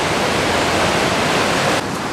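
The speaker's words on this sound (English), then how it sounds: "We're walking towards a river, and I've never seen so much water in it before." A swollen river runs unusually high and full, its rushing water making a loud, steady, broadband roar that stays dense and unbroken throughout, with no voices heard.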